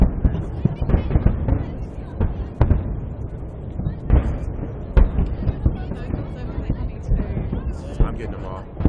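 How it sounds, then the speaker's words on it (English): New Year's Eve fireworks in Sydney boom and crackle in a rapid, rolling barrage, sharp bangs punctuating a constant rumble amid crowd noise. "Family fireworks, New Year's Eve."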